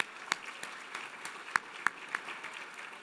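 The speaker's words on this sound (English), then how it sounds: "Round of applause." Gala audience applause for book-publishing underwriters, a thin scattering of claps in a large room, fairly faint and distant, with a few sharper close claps standing out.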